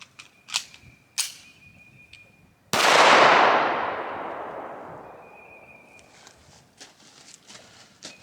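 One sharp, loud shot from an SA 35 pistol cracks out close by and rings into a long decaying echo, followed by a second, softer report, with light clicks and handling noises before and after.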